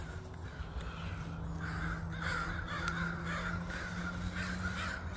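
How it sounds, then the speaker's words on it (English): Several crows caw repeatedly in a Puyallup neighborhood, harsh calls in irregular bursts over a steady low background hum, moderately distant with no talk. "Birds are back here in Puyallup."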